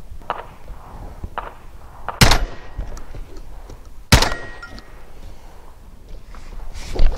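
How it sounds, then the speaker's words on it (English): Shotgun shells handled and loaded from a body-worn ammo carrier rig: soft rustling and clicks with two sharp loud metallic thunks of rounds seating, close up, no talking. "grab two rounds, load them in, grab the next two rounds if I need to, load those in"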